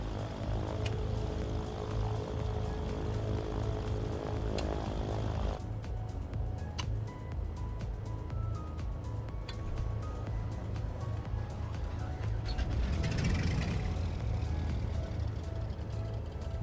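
Cessna 414 twin piston engines running in flight on a trip into and out of Las Vegas, a loud steady drone that eases lower partway through, with a brief surge in roar near the end.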